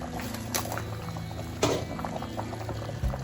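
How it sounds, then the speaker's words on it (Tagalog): A pot of ginisang munggo, mung bean stew, bubbles at a gentle boil, giving a soft, continuous patter of bursting bubbles with a few sharper pops, quiet and close. "kumukulo."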